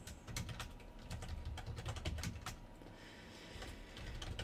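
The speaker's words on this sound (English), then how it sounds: "What is going on with my typing today?" Quick typing on a computer keyboard while writing HTML5 form code, a rapid, uneven run of soft key clicks, close and fairly quiet, with no voice over it.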